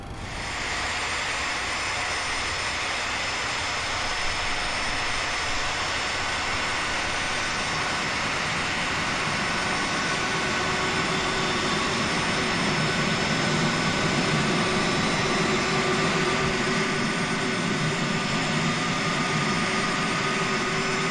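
Boeing 737-300 jet engine number 1 starting up in the X-Plane 11 flight simulator: a loud, steady broadband roar and whine holding throughout, with no talk.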